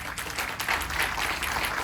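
An audience in an auditorium claps continuously at a fairly low level, a steady wash of applause from the hall.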